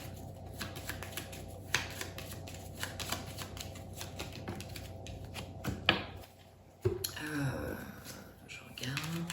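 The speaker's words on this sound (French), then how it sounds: "pendant que je bats les cartes" Tarot cards being shuffled by hand, repeated soft riffling and flicking bursts at close range, with someone speaking over them throughout.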